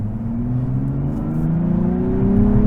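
A 2023 Nissan Z with a manual gearbox pulls through a roundabout in second gear, its engine droning loud and close with a steadily rising pitch as it accelerates.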